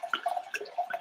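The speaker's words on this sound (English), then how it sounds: "Let's pour." Red Cabernet Sauvignon wine glugs into a mug in a short burst of bubbly, gurgling pours, close and fairly quiet, with no talking.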